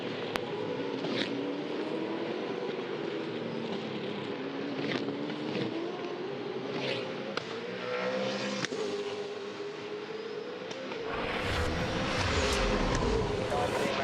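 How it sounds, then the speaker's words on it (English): V8 Supercars race on the Hamilton Street Circuit, a sustained roar of engines with rising and falling pitch as cars pass and rev, heard under continuous commentary. "We're back to V8 Supercars, live on this Sunday race day, the final ever race on the Hamilton Street Circuit."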